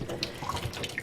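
Water squirts steadily from a tap to rinse dirt off freshly harvested ginger roots, a continuous splashing hiss close up.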